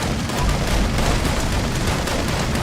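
Enemy explosions in Fallout 76 rumble in a loud, unbroken wall of booms and crackling fire, dense and close throughout.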